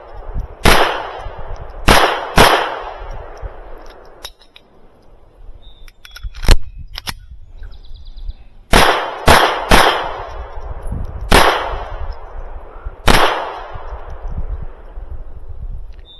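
Sharp, loud gunshots from a .32 Walther PP pocket pistol at an outdoor range, about a dozen cracks in uneven groups with short pauses between, some in quick pairs, with faint background noise.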